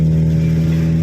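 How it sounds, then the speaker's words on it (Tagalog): Heavy road traffic near an expressway gives a loud, continuous low engine drone with a steady hum, briefly sounding like a car revving up close. "Super traffic dito sa left side."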